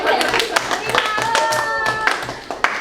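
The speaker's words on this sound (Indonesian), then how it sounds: "Tepuk tangan dulu dong buat Eva." Classroom applause from students in a small teaching session, a burst of scattered hand claps running throughout, with voices talking and a whistle-like tone over the clapping.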